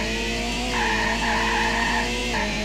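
A race car in the futuristic racer Quantum Rush braking hard into a skid, a sustained tire squeal over a droning engine that shifts pitch midway and holds steady, loud and close, with no talking.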